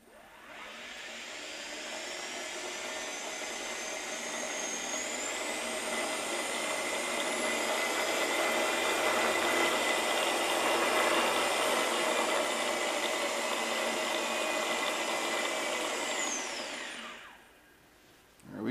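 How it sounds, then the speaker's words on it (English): A Tesla small drive unit spins its drive shafts at high revs with no load, giving a steady loud whine with rising and falling tonal sweeps that builds over several seconds, holds, then cuts off near the end. "our drive shafts don't quite like being spun up to high revs without"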